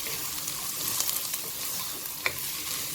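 Diced carrot and capsicum frying in a pan for pasta, a steady close sizzle with occasional stirring scrapes and one sharper clink.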